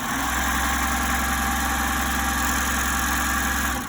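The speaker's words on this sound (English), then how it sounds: "I'm going to 4-thread overlock, and I'm going to feed off enough chain right here" A serger running a 4-thread overlock stitch and feeding off a thread chain, a steady continuous motor hum with even mechanical vibration throughout, close and fairly loud with no talking.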